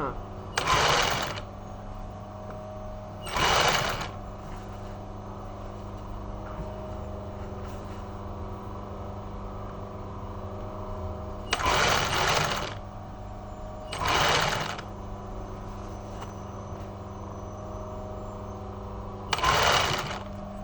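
A domestic sewing machine stitches a crystal-trimmed caftan in five short bursts of rapid mechanical whirring, close and loud, separated by quiet pauses with a faint background hum.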